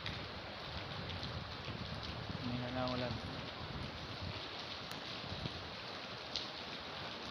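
Steady heavy downpour in Manila hisses throughout, a dense even wash of sound, with a faint brief tone rising partway through.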